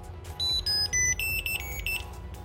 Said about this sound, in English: See, it beeps.